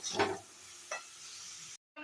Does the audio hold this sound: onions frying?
yes